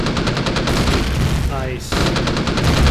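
Weapons fire in Empyrion Galactic Survival as rapid, loud, close bursts of automatic shots, briefly broken by a rising whine before the firing resumes.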